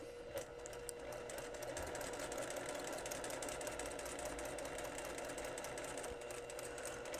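A sewing machine stitches steadily around a fabric hand warming insert, a quiet, continuous rapid mechanical whirring and ticking close up, with no talking.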